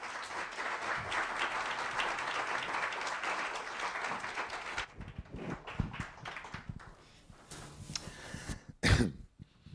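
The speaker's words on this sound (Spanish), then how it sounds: "Un fuerte aplauso para él" Audience applause at a book presentation, a dense burst of clapping from a seated crowd that fades after about five seconds into scattered claps, coughs, shuffling and knocks near the microphone.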